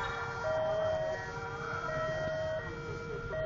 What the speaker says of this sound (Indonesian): Kereta barang.